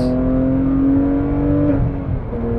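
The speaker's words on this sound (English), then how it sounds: "you want to just downshift for fun" A 2007 Porsche 911 GT3's naturally aspirated engine sounds loud and close from inside the car, a sustained rising-then-falling rev as it blips on a downshift.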